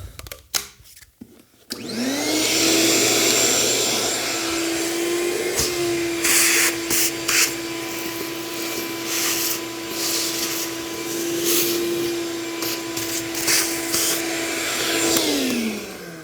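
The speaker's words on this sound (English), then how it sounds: "let me get the vacuum. I want to suck those chips out." A vacuum cleaner sucks up metal chips: a loud, steady whining roar with rattling grit that spins up after a few handling knocks and winds down near the end.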